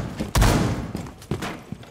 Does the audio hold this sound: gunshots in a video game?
yes